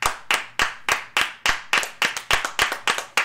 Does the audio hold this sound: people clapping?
yes